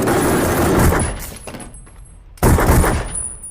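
Gunfire erupts in a film scene as a shooter emerges from a room and fires at a group, giving loud, close bursts of shots with echoing decay, then a sudden renewed volley.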